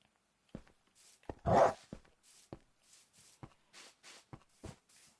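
A dog in a Minecraft-style game server gives a loud bark or whimper amid a run of soft, rhythmic footsteps and shuffling, close by, with no speech over it.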